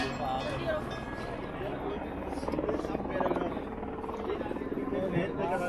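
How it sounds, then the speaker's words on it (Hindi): A helicopter works at the crowded Kedarnath helipad near the temple in the mountains, a steady droning buzz of rotor and engine running through the whole stretch under nearby crowd voices and talk. "पूरा हेलीपैड, यहाँ पे आपके हेलीकॉप्टर सारे रुकते हैं"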